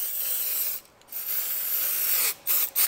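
Aerosol bursts of Fluid Film rust inhibitor sprayed onto the rear brake parts of a 2011 Buick Enclave, a loud close hiss with two brief pauses and a short final spurt.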